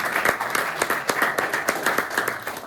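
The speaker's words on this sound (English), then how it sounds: "So let's give a hand a big clap." Audience at a college student showcase event clapping together in a steady burst of applause, close and fairly loud, with no voices over it.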